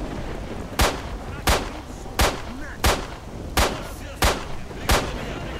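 Seven single gunshots from the video game S.T.A.L.K.E.R.: Shadow of Chernobyl ring out at a steady, evenly spaced pace over a constant background hiss.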